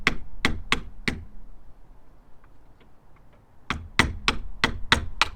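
A screwdriver hammered against an Alko trailer brake friction pad to knock it loose, a run of four sharp metallic knocks, a quiet pause with faint light ticks, then a quicker series of about six more knocks.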